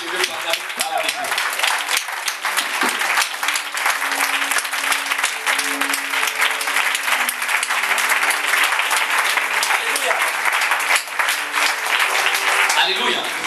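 A church congregation claps and cheers in sustained, dense applause that fills the room for about thirteen seconds without a break.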